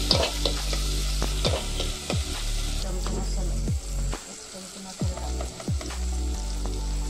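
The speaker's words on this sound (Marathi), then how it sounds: "कांदा टोमॅटो व्यवस्थित भाजलो" Onion and tomato fry in a pan with a steady close sizzle, broken by repeated rhythmic scraping knocks of a spatula against the pan and a low hum underneath.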